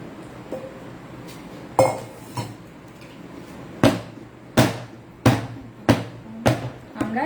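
A whisk knocks and scrapes against a container while stirring homemade ice cream, giving about eight sharp clinks at irregular intervals over a quiet background.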